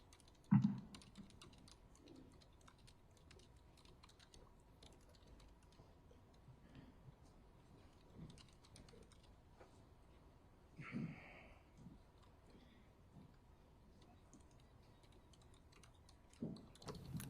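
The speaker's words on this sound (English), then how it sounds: "court reporter typing." Quiet, rapid stenotype key tapping in bursts by a court reporter across a hushed courtroom during a trial, with a few louder knocks and shuffles now and then.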